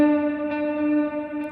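A sustained guitar note rings through Line 6 Helix delay repeats, with reverb in the feedback loop smearing each echo into a steady shimmering wash, close and clear with no voice.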